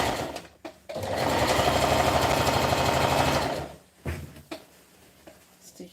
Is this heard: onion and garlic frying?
no